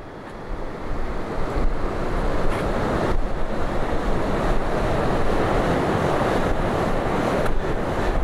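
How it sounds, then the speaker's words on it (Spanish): The swollen Pastaza River rushes below a panoramic viewpoint in Ecuador's Puyupungo area, a steady, broad roar of flowing water with a windy, airy hiss that stays loud and unbroken throughout. "Ahí tenemos lo que es el caudaloso río Pastaza."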